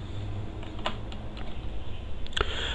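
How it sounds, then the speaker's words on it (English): Light typing on a computer keyboard, a handful of sparse, crisp key clicks with a quick double tap near the end, close and fairly quiet over a steady background hiss. "and I type this one, age"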